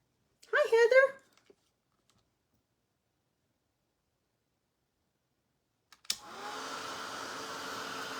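A hair dryer switches on with a click after a brief spoken phrase and a long silence, then blows steadily and fairly loud to dry a painting.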